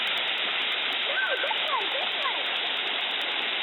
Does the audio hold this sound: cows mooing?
no